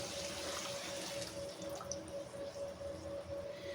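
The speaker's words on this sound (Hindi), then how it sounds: "अब हम इसमें ये पानी डाल देंगे।" Water is poured into a pot of roasted chana and moong dal cooking in a thick gravy, making a soft, continuous trickle and splash at close range with no talking.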